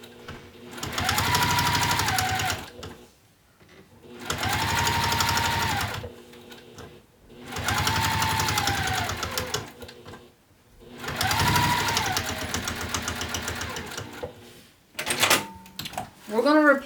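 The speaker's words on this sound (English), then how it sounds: "anytime I top stitch, it's just 1/8 of an inch away." A sewing machine topstitches a seam on an apothecary bag in four steady runs of rapid stitching, each separated by a short pause. Brief handling noises and a faint voice follow at the end.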